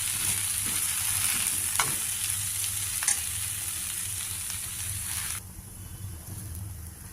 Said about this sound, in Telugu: ఇవన్నీ కొద్దిగా పచ్చివాసన పోయేదాకా వేయించుకోవాలి